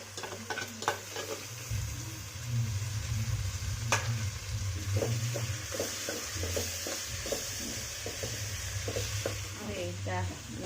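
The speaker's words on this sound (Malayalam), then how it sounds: "ഇനി നമുക്ക് ഇതിനകത്ത് വെളുത്തുള്ളി ഇഞ്ചി പേസ്റ്റ് ഉണ്ടോ അങ്ങോട്ട് ഇടുകയാണ് കേട്ടോ" Garlic-ginger paste frying in a pan for a jackfruit and chicken dish, a steady sizzle with stirring scrapes running throughout, close by and moderately loud.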